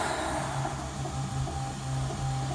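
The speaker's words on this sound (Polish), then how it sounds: "teraz drukuję z ABS-u, yy, e, drukuję sobie tą część, mocowanie silnika" A Prusa MK2 3D printer lays down an ABS motor mount with its nozzle at 255 degrees and bed at 100 degrees, giving a steady, loud whine of stepper motors and fans with a constant low hum and slight swells.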